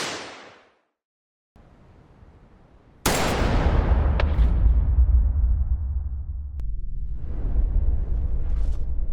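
A gunshot from a Squid Game scene cracks loud and sudden after a quiet stretch, followed by a sustained low rumbling roar and dramatic score that carries on to the end.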